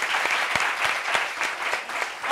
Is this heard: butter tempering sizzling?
no